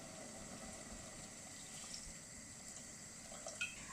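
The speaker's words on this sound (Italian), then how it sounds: "andiamo a coprire, tutta la superficie dei gamberi con dell'acqua molto fredda o del ghiaccio se lo avete" Very cold water runs steadily into a pot of prawns, making a faint, continuous splashing and trickling hiss with no break.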